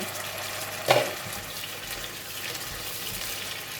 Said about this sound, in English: we will continue to cook this shiitake mushroom for a couple of minutes